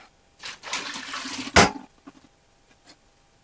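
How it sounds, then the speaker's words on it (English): Hot water scooped out of a home canning pot and cool water poured in, a close burst of pouring and splashing followed by one sharp slosh, then fading drips and quiet. "I'm going to go ahead and take out a lot of this water and put some cool water in it"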